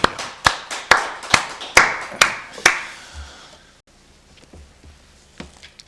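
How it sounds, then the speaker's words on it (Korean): A church congregation at a Korean Wednesday worship service claps in unison, about seven sharp, evenly spaced claps that ring in the hall, then stop, leaving quiet room tone and faint low rumbles. "우리 하나님께 박수를 한번 드리겠습니다."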